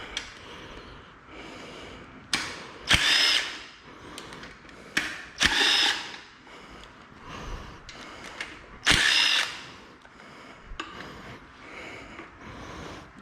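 Power tool bursts and wrench work on a BMW M50 engine during a budget teardown: several short loud whirring bursts at irregular intervals, separated by quieter clinks and rustling, close by with no talk.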